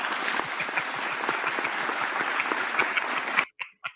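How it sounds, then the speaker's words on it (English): Studio audience clapping on a sports podcast, with a dense run of claps for about three and a half seconds that stops abruptly, followed by a couple of short isolated sounds. "Why y'all ain't clapping? Clap."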